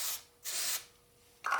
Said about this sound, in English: I sprayed it with activator to speed up the drying